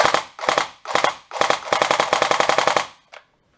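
A GSG G14 airsoft electric gun fires semi-auto on a 7.4 LiPo battery, a loud close series of sharp snapping shots, first spaced in short bursts, then in a rapid even run of single shots.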